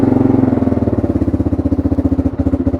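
An old carbureted motorcycle, a 2017 bike built on a 1987 design and fitted with a split FMF slip-on exhaust, idles close by with a steady, lumpy putter of rapid even pulses throughout.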